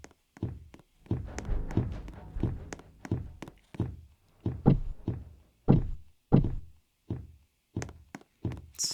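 Door knocks in the video game Ready Player 2, a long series of dull wooden thunks in irregular groups, close and fairly loud against near silence, with no talking.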